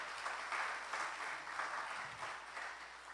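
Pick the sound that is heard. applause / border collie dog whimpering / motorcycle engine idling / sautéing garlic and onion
applause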